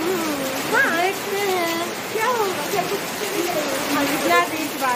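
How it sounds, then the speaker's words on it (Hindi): Heavy rain pours steadily and loudly close by, a continuous wash of noise under speech that runs through most of the stretch. "इतना तेज बारिश हो रहा है, अभी तक नहीं रुका है।"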